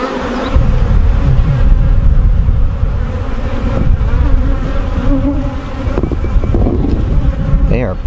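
A dense, steady hum of many honey bees buzzing close by in an open hive during an inspection, continuous and loud for the whole stretch, with a few soft knocks.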